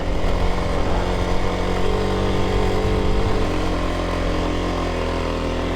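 Motorcycle engine running steadily and loud throughout, with clutch work shifting the tone partway, on a climb into the Colorado mountains while overheating.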